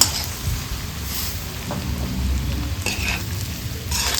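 Coorg-style chilli pork with spice powder is stirred over a high flame, a continuous loud sizzle with scraping and rustling from the stirring and a few brighter splutters.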